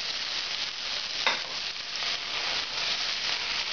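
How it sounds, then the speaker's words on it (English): Tomato sauce sizzling steadily in a hot pan as it starts cooking for an Oaxacan pork mole, a dense bright hiss with one brief stirring scrape. "start cooking the tomatoes sauce"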